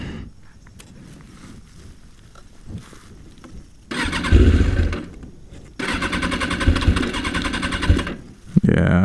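A flooded Kawasaki ZZR600 motorcycle engine is cranked after sitting about a year, with two loud, sustained bursts of starter churning and sputtering separated by a pause, over low background noise.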